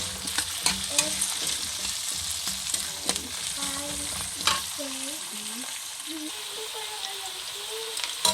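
Vegetables and carrots frying in a pan for chicken pastil, a steady close sizzle with stirring scrapes and occasional clinks, no talking.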